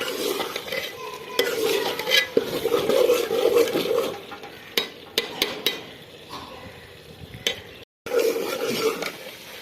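A potato and egg mixture being stirred and cooked in a pan for aloo anda, with a spatula scraping and knocking against the pan over a continuous sizzle, in uneven bursts with a short gap near the end.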